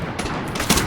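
Gunfire in the video game Modern Warfare, a very short burst of loud, rapid shots heard up close with no talking.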